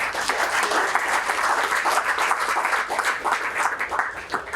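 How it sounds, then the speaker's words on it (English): Steady audience applause greets the panellists at a Beef Week panel discussion, a dense, even wash of clapping from a room full of people throughout. "A quick round of applause for our panellists, please."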